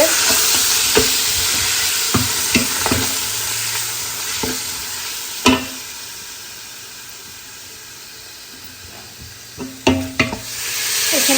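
Chicken sizzling in a pan with nuts, onion cubes and mixed herbs, a steady frying hiss broken by sharp scraping clicks of a spoon stirring, several close strokes early, then a quieter stretch and a burst of stirring near the end.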